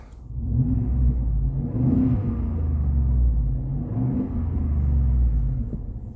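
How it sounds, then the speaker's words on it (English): A 2015 Ford F-150 pickup engine revving from inside the cab with a Flowmaster Super 50 Series muffler, two rising deep rumbling swells with a low muffled exhaust drone. "So here's some revs inside the truck."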